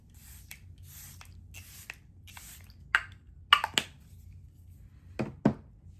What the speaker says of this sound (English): This is the Charlotte Tilbury Airbrushed Flawless Setting Spray. Let's go ahead and spray it.